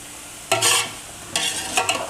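Shredded cabbage for Chinese biryani is stirred and fried in a hot pan, with three bursts of scraping and sizzling separated by brief quieter stretches.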